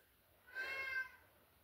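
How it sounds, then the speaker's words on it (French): A pet cat gives a single short meow, close and fairly quiet, lasting about half a second against a hushed indoor background. "Désolée pour mon minou."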